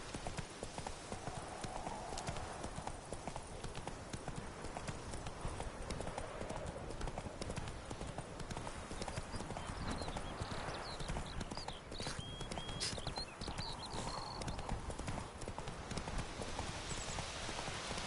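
A horse gallops in The Witcher 3, with dense, rapid clip-clop hoofbeats running continuously at a steady level over an ambient outdoor bed, accompanied by faint tonal game sounds.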